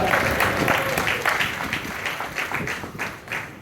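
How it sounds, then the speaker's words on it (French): A church congregation applauding during a morning service, steady dense clapping throughout, fairly loud and close, with a faint voice underneath. "On peut applaudir l'église ce matin."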